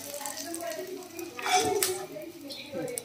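Fried cashews being scooped onto a plate, with soft scraping and light clinks of utensil against dish, a brief clatter in the middle, close and fairly quiet.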